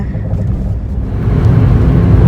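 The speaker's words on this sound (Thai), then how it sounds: "อันดี้ขับรถเวียงวันนี้" A car's engine and road rumble heard from inside the cabin on a sunny drive through green countryside, a steady low drone that swells slightly louder partway through, with no talk.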